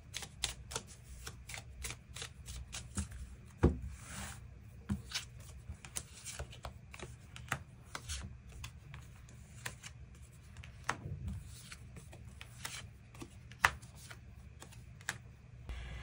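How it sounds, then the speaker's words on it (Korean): Tarot cards being shuffled and drawn at close range, a steady run of quiet riffling flicks and soft taps with sharper snaps now and then, no voices. "그럼 6번 분들 추가 카드로 일별로 월요일부터 일요일까지 어떤 하루를 보내게 될지 추가 카드 뽑아보도록 하겠습니다."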